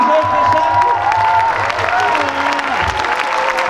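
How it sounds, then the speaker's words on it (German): A warm audience at a fashion show for the German Down Syndrome athletes' festival applauds loudly and steadily, with cheering and whoops mixed into the continuous clapping of a crowd. "ihr müsst applaudieren"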